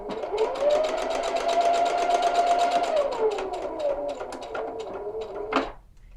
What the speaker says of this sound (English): So here I'm finishing up the last row of stitches on this side of the center line.